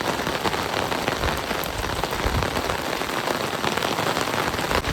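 Heavy monsoon rain pouring steadily onto a hard surface, a dense, loud, continuous hiss that doesn't let up.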